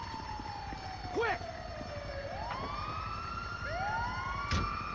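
Wailing ambulance siren in the video game GTA 5, sweeping up and down at moderate distance beneath a busy game soundscape, while a voice briefly calls out.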